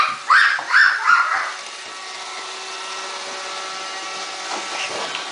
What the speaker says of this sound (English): We love the Roomba.